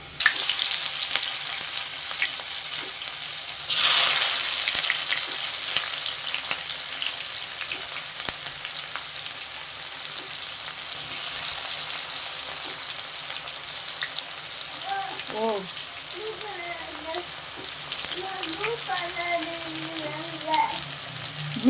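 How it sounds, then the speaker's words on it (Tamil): Onions frying in oil in a pan for a fish curry, giving a continuous crackling sizzle with a brief louder burst early on. A faint voice murmurs now and then partway through. "வெங்காயம் நல்லா வதங்கிடுச்சு"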